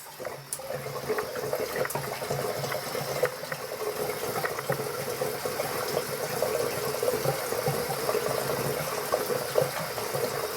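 Water runs steadily from a tap while shaving soap is prepared, a continuous even splashing and gushing that lasts throughout with no talk.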